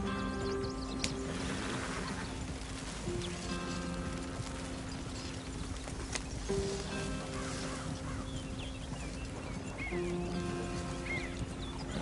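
Horse galloping in the Red Dead Redemption 2 video game, a steady run of hoofbeats under ambient game sound, with faint tonal background music and no clear talk.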